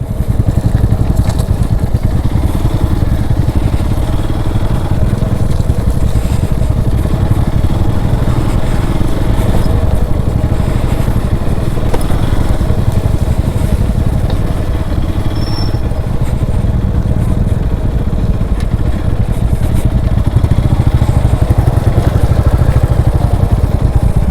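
Royal Enfield Classic 350 motorcycle on a ride, its engine a loud, steady thumping drone that holds throughout with wind and road clatter close to the microphone and no voices.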